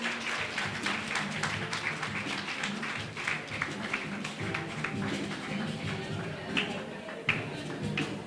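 An audience applauds as a co-host arrives on stage at an evening event, steady crowd clapping with scattered sharp claps that keeps going for several seconds, with a voice speaking over it.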